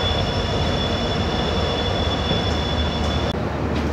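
The Silchar–Guwahati passenger train rolls past at a railway crossing, a loud steady roar of wheels on rails with a thin high squeal running under it, cutting off abruptly near the end.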